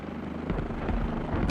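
A Z-8G military helicopter in a combat video game, a loud continuous rotor rumble throbbing close by, with a brighter burst of noise at the very end.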